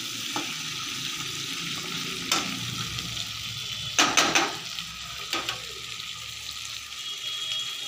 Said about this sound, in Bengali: এই দেখুন কষাতে কষাতে খানিকটা তেল বার হয়ে আসছে